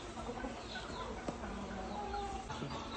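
Free-range desi chickens at a poultry farm cluck softly and steadily, with faint scattered clucks over a low, continuous farmyard background.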